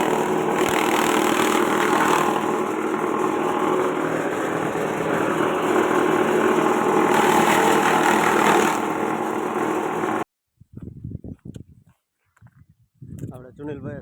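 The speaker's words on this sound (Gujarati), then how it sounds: "આજે મશીન કરી દીધું ચાલુ" A maize cutting machine runs on a farm with a loud, steady engine drone for about ten seconds, then cuts out abruptly, followed by brief talk.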